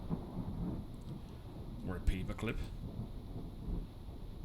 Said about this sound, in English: So the thunderstorm still rages outside.